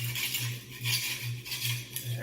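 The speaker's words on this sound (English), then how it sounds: "Now I'm scraping with a spatula again." A metal spatula scrapes wet carpet glue off a concrete floor in repeated rhythmic strokes, a close, gritty, rasping scrape with steady back-and-forth pulses.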